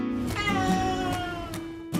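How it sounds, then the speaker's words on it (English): A domestic cat meows repeatedly, four or five drawn-out, tonal cries in quick succession, close and clear against a low steady hum. "If anything, it seemed to make him meow more."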